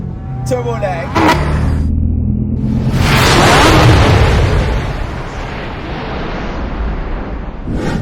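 Mercedes A250 AMG Line with a 2-litre turbo engine in sport mode, launching hard: a loud, rising roar and rumble building through the middle of the clip and carrying to the end, with a couple of sharp pops early on.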